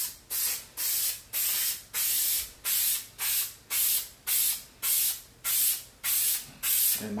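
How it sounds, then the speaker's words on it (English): Aerosol spray can used in short, even bursts on a baby onesie, about a dozen quick hissing sprays in a steady rhythm, close and fairly quiet. "I spray it on here lightly."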